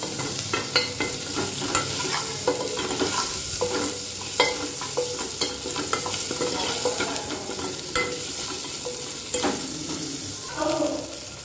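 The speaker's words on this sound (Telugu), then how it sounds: "కొంచెం ఆనియన్ కలర్ చేంజ్ అయ్యే వరకు ఫ్రై చేసుకున్నాము." Onions sizzling and frying in a pan for a home lunch, with a steady close crackle broken by frequent scraping stirs of a spatula throughout.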